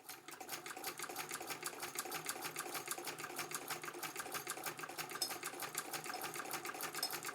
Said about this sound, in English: this machine still stitches perfectly